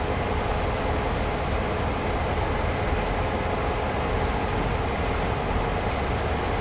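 A train in the Train Sim World game, on the NEC New York route, gives a steady, unbroken rolling rumble with broad wheel and track noise that holds at one even level throughout, with no voices.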